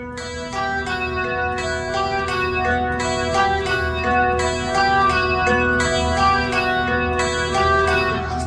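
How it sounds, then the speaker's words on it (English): Guitar riff from a song intro played at full album speed, a brisk run of ringing picked notes repeating in an even pattern, close and bright with no voices over it. "Then full speed, album speed, it would sound like this."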